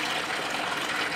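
Water sprays and gushes inside a prototype mushroom substrate double-bagging machine, a steady hissing rush that runs unbroken through a short moment.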